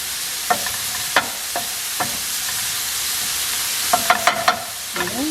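Meat sautéing with baharat spices in a pan, a steady sizzle under sharp scraping and clinking strokes of a utensil against the pan, with several stir strokes.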